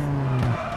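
Rally car in WRC Generations braking hard into a hairpin, a short loud tyre squeal and skid with a falling engine tone, close up.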